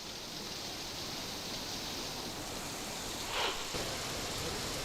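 Heavy monsoon rain in Nashik, a steady hissing downpour, fairly faint and even, with one brief louder swell late on.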